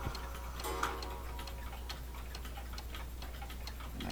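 A cuckoo clock with a pendulum ticks in a steady, even rhythm, faint and close, with no voices over it.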